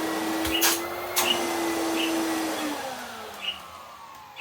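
A 1990 Bosch Alpha 32 Premium vacuum cleaner runs on its low setting, giving a steady close motor drone with a sustained whine that drifts slightly in pitch, and a few soft knocks and bumps.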